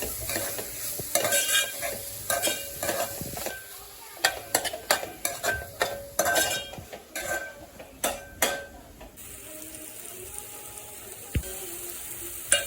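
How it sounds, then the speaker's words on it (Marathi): Spice masala is sautéed in a pan with onion-garlic masala and tomato: a soft sizzle under repeated close scraping and clinking of a spoon against the pan, with brief quiet gaps between bursts of stirring. "छानपैकी मसाले आपण परतून घेऊया"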